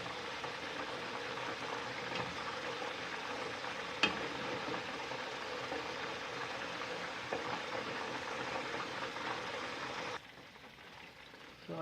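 A whole chicken fries in hot oil in a pan and is turned over. The oil gives a steady, dense sizzle at close range, with a brief clink partway through, then the sizzle softens near the end.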